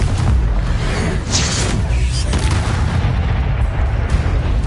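A Confringo fire spell goes off in the video game Hogwarts Legacy, booming blasts and crackling bursts layered over dense, loud combat rumble.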